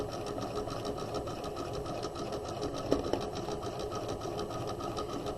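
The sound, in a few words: sewing machine stitching tote bag lining seam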